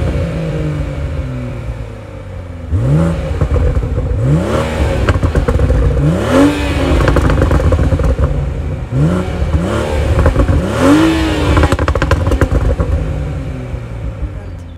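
A BMW X4 M40i G02 with a gas particulate filter in its exhaust revs repeatedly, giving about six loud, close throttle blips that rise and fall over a steady idle.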